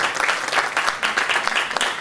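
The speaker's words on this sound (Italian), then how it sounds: "E adesso un applauso forte forte forte per Demo Martelli" Audience clapping at a poetry gathering in Italy, a brief steady burst of applause from a modest crowd, close and fairly loud.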